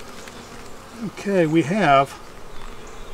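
Honeybees hum steadily and loudly around an open hive during an inspection, with a person speaking briefly over the buzzing.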